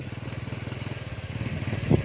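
Engine-driven water pump draining an old pond, a steady rapid chugging putter close by and fairly loud, with a brief louder knock near the end and no clear speech.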